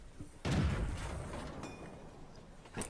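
A Leichttraktor tank gun fires once in World of Tanks, a single loud, close boom that rolls off into a long reverberating rumble, with a faint second thump near the end.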